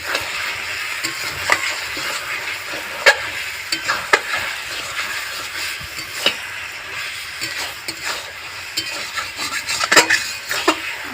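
Fish head curry with pui shak fruit sizzles steadily in a pan, broken by frequent sharp scrapes and clinks of a utensil stirring against the metal, close and continuous.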